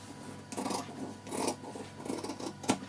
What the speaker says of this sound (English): So what we're going to do is cut the adult's neckline